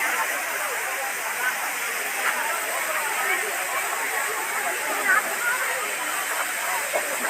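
A waterfall at Luguburu Ghantabari rushes with a broad, steady hiss that never lets up, heard close by.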